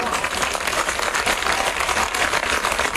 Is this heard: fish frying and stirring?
no